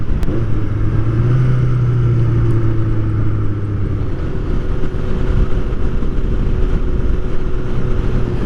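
A Honda Nighthawk motorcycle engine runs steadily after being started, a close, loud, even idle drone with a brief higher tone early on and no talking.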